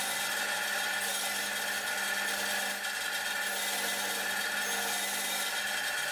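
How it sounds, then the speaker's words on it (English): Surface grinder grinding steel toolmaker clamps: a steady, loud continuous grinding hiss with a constant motor hum, unbroken throughout without talk. "I wanted to surface grind them"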